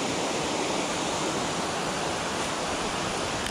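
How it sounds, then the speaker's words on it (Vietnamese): Forest stream rushing near Savin waterfall in Khánh Hòa, a steady, broad hiss of flowing water, constant and moderately loud with no voices. "Có suối nè."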